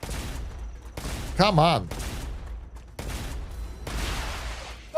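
Long-range artillery in a video game fires in heavy bursts separated by short quiet gaps, loud and close, with someone briefly shouting in between.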